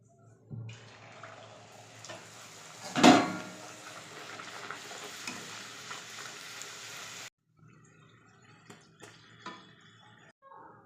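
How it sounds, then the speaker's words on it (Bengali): Pea-stuffed kachori puris fry in hot oil in a wok, a steady bubbling sizzle with one loud splash as dough drops in, then the frying cuts off and resumes more sparsely. "তেলটা গরম হলো, এবার লুচিগুলো বেলে নিয়েছি, ভাজা শুরু করব।"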